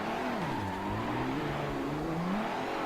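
A race car in Forza Motorsport 7 revs hard and accelerates, its engine pitch climbing and shifting through gears in a loud, continuous roar with no voices over it.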